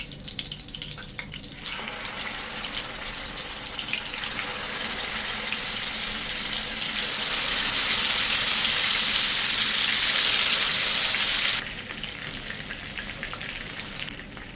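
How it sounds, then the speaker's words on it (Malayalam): Chicken pieces and curry leaves fry in hot sunflower oil with a loud, continuous close-up sizzle that swells midway, then eases back toward the end, with no voices. "എണ്ണ ചൂടായി വരുമ്പോഴേക്കും അതിലേക്ക് കുറച്ച് കറിവേപ്പില ഇട്ട് ചിക്കൻ പീസുകൾ ഇട്ട് കൊടുക്കാം."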